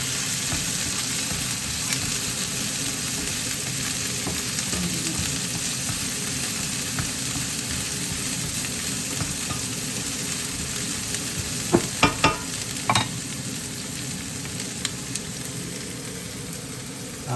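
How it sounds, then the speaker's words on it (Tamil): Green chillies fry in a pan for kottu roti, giving a steady, even sizzle throughout, with a brief burst of clattering stirring strokes toward the end. "இது கொஞ்சம் வதங்கும்படியாக கொஞ்சம் கிளறுவோம்."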